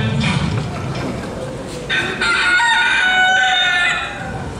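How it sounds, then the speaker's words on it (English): A rooster crowing loudly and close, one long drawn-out cock-a-doodle-doo rising out of clucking chickens, played at a live stage concert. "Chickens!"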